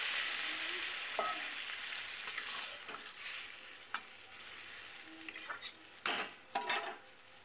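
Vegetables frying in a pan with a little water just added, giving a steady broad sizzle with occasional clinks and scrapes of a spoon stirring, close and continuous without talk.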